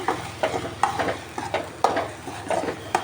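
Papaya poriyal stirred in a pan, a spoon scraping in repeated short strokes about every half second over a soft background sizzle, close and moderately loud, no voices.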